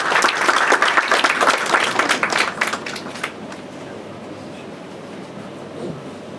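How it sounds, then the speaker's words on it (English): An audience at a university student society book programme bursts into dense clapping that lasts about three seconds, then fades into quiet room tone. "Please give a round of applause."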